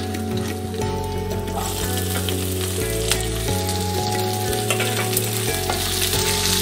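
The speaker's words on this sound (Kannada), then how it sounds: "ನೋಡಿ, ಹಸಿಮೆಣಸಿನ್ಕಾಯಿ ಚೆನ್ನಾಗಿ ಫ್ರೈ ಆಗಿದೆ." Green chillies and onions fry in a pan with a loud, close, continuous sizzle, joined by a low steady hum and occasional scraping stirs.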